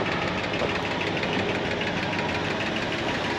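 Ford Galaxie XL engine running steadily with noisy lifters, a loud, constant mechanical clatter and hum close by, with no break and no voices.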